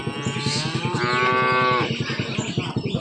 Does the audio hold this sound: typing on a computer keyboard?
no